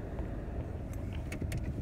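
A car passes slowly along a snowy street in Cleveland, Ohio, a faint, soft engine hum and tire rush with a few small clicks and knocks, and no one speaking.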